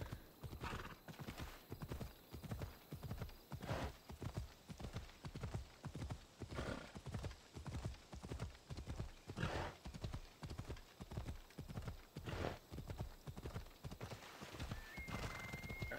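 A horse in Assassin's Creed Odyssey gallops with a steady, rapid rhythm of hoofbeats, loud and close, with a whinny breaking through near the middle and again toward the end.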